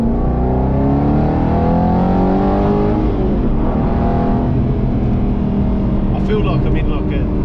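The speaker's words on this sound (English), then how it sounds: "I feel like I'm in like a V8 Le Mans racing car." A loud V8 sports car engine revs close by, its pitch climbing and dropping as it roars, with a few faint metallic rattles near the end.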